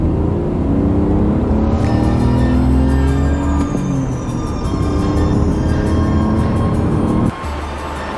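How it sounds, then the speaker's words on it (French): A BMW car engine runs steadily at a loud, close level, its tone rising and falling gently with a steady drone, then the sound drops abruptly near the end. "En plus, t'as le petit son BMW."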